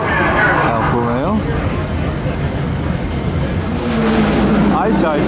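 Alfa Romeo race car engine running loud and continuous at a Monterey motorsports event, its pitch rising and sweeping between gears, with people talking over the steady roar throughout.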